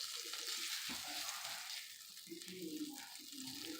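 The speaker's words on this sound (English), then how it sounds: "I'm going to let this margarine melt down." Margarine melts in a hot pan with a steady, soft frying hiss. A voice talks quietly over it for part of the time.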